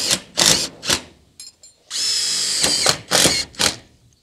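A power drill drives screws into overlapping shed roof sheets, with repeated short whirring bursts and one longer sustained run, loud and close, with no talk.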